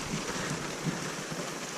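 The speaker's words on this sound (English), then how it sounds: "we are in the rain at Minersville" Steady rain pours down during a storm at Minersville Reservoir in Utah, a dense even hiss with faint low rumbles of thunder beneath, heard close and without voices.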